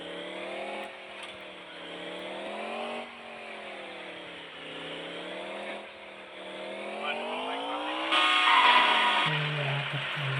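A new car being driven, its engine note rising and falling in smooth waves as it accelerates and shifts, steady and fairly close throughout, with a louder, harsher burst near the end.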